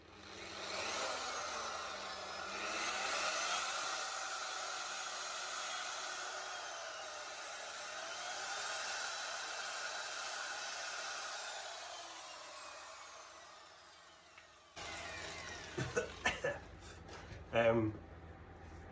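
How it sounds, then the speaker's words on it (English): A very loud dual-action polisher whines steadily for about fifteen seconds as its buffing head is cleaned against a sanding disc, then cuts off, leaving a few short bursts of talk. "I've also got the noisiest polisher in the world"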